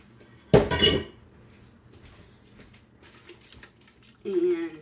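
Canned tomatoes going into a cooking pot at home, a short loud clatter and clink of metal near the start, then quiet kitchen rustling and a brief final clatter; no one talks.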